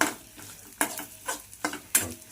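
Chili chutney fries in hot oil for bhel made with puffed rice, its sizzle broken by several sharp stirring scrapes at an even pace, close and clear, with no talking.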